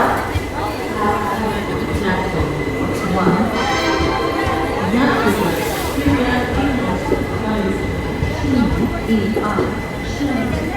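Train arriving at Orai railway station, a Jhansi–Kanpur special, with a continuous rumbling roll and rhythmic rail clatter heard close, under a station announcement and voices.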